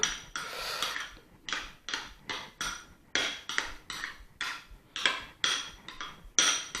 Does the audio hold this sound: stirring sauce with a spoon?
yes